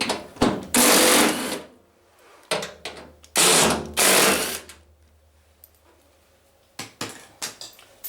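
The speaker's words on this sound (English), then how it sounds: "Then we need to undo these 2 nuts." A ratchet undoing two nuts on a Hotpoint washing machine drum, two bursts of rapid clicking close by with a loud rasping quality, separated by quieter handling noises and no speech.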